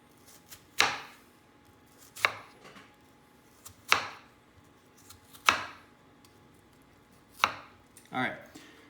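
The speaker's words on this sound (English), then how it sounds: "We're gonna cut down from the top, making sure we don't get to the root, and try to do even finer cuts than we did yesterday." A knife chops down through an onion on a cutting board with six separate sharp strikes spaced about every second and a half, crisp and close, with no talking.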